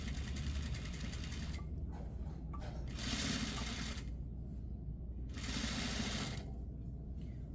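A sewing machine stitches the seam allowance of a jacket lapel in two separate steady bursts of running, with quieter pauses between, close and fairly loud.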